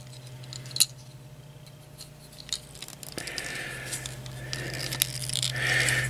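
Plastic treads of a Transformers Megatron toy fold downward with small sharp clicks and light rattles, close by, over a faint steady hum.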